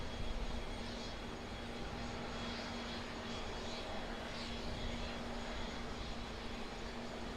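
Airliner engines at Auckland Airport, with Airbus A330, A350 and A320 jets around, give a steady, distant broadband roar that holds evenly throughout with no voices.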